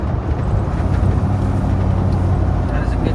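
A Jeep Cherokee Chief with a swapped LS engine runs through its muffler with a low, steady rumble. A mild rise in revs lasts about three seconds, and the exhaust tone stays close and continuous.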